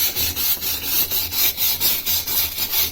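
Rhythmic back-and-forth scrubbing on rusty metal parts, taking off surface rust with steady, close strokes of about three passes per second, loud and alone with no voices.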